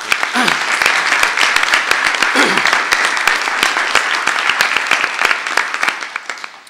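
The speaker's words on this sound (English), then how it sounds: "Maybe we could all give her a round of applause" A conference audience gives a sustained round of applause, many hands clapping densely and loudly throughout, with individual sharp claps standing out as the ovation thins toward the end.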